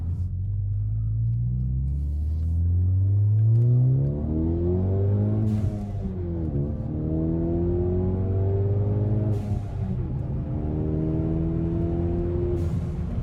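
A Ford Focus ST with an Accessport tune pulls hard under throttle, its engine note rising through the revs then dropping at gear changes, repeating in loud, close sweeps from the cabin.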